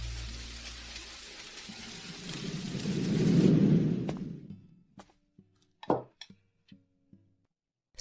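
Heavy rain pours down as a deep rumble of thunder swells and rolls for several seconds, then fades, leaving scattered sharp drips and taps in near silence.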